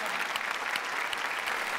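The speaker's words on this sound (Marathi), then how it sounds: "या अशा रसिक प्रेक्षकांसाठी एकदा जोरदार टाळ्या झाल्या पाहिजेत" Steady, dense applause from a comedy show's studio audience, many hands clapping continuously at a fairly loud level throughout, with no pauses.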